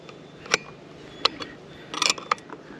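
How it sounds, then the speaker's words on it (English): A wrench tightening bolts on a Mokwheel Scoria electric bike gives a few sharp metallic clicks and ticks, spaced irregularly over a quiet background, with a small cluster of taps near the end. "Tighten them down evenly, a little bit on both sides."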